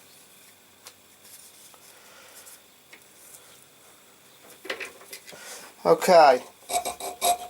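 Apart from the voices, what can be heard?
chainsaw file filing a friction folder knife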